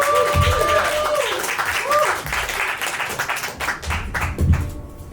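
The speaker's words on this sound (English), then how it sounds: "Everyone, clap it up for Matthew Thrice." A comedy show audience claps and cheers for a comedian at a stand-up set in Atlanta, a loud dense patter of hands mixed with whoops and crowd voices that fades a little toward the end.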